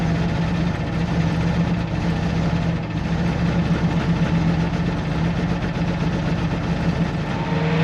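A ranch vehicle's engine idles steadily while warming up with the choke on, a continuous low rumbling drone with faint vibration, close and unbroken with no talk.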